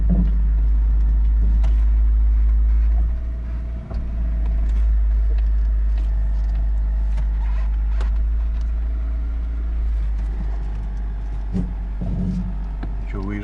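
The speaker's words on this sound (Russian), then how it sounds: "Едет Passat." A Volkswagen Passat B3 being revived drives slowly with a steady, close engine rumble and low drone, while people talk in the cabin over the running motor.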